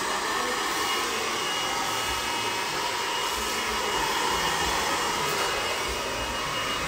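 A hair dryer rough drying hair during a short bob haircut, a loud, steady close-up whoosh running continuously without pause and with no talk.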